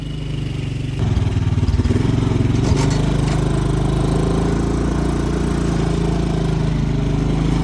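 A free ATV's engine kicks in loudly after a second of quiet, then runs on in a steady, close, buzzing drone with slight throttle variation throughout; no speech.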